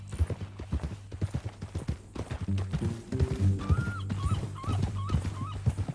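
Steady clip-clopping horse hooves plod along in Red Dead Redemption 2, under a low rumbling hum, with a few short higher chirps and a brief whimper-like call.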